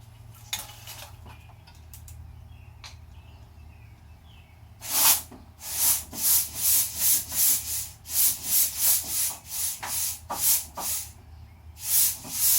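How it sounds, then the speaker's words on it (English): Quiet hum with scattered ticks, then rapid bursts of loud hissing air in repeated pulses, close by, as compressed air is blown through a car windshield washer hose. "Take the air hose, blow it up through the hose and see what happens."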